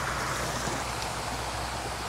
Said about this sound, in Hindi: यहीं पर अपने हाथ धो लेते हैं